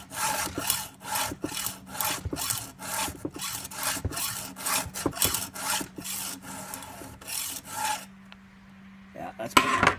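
A file rasps against a Craftsman chainsaw chain in quick, even strokes, about two per second, close and clear, then stops near the end with a faint clink.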